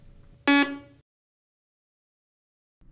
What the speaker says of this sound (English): Now, turn the detector on.